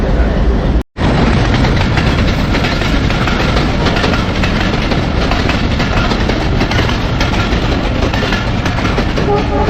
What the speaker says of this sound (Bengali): আমাদের ট্রেন ইঞ্জিন লাগানো হচ্ছে, লাগানো হইলে আমাদের ট্রেনটা ছেড়ে দেবে